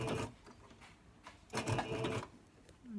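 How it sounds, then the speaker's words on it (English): A sewing machine stitches fabric for a bonnet in short, quiet bursts of rapid mechanical whirring with pauses between them, heard close up. "I let the presser foot down, try to keep my fabric out the way, and then I stitch"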